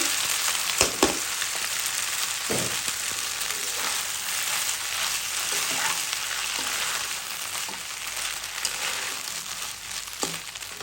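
Boiled noodles go into a pan over fried egg and fry loudly, with a dense steady sizzle and occasional soft stirring knocks throughout.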